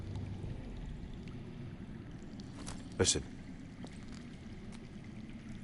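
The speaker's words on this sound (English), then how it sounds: "I hear water. From underground." In a video game, underground water flows with a soft, continuous rushing and trickling wash that runs steadily throughout, while a voice briefly speaks over it near the middle.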